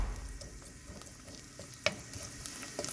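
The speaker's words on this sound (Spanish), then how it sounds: "aquí estoy sofritando la cebolla con la guarma, con la grasa de la guarma" Onion sautéing in rendered guarma fat, a steady soft sizzle and crackle with a few brief pops and faint stirring, close and moderate in level, no talking.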